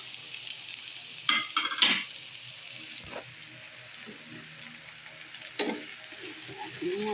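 Bitter gourd (ampalaya) stir-frying in a pan, a soft steady sizzle with a few sharper scraping stirs, close but fairly quiet, and no talk.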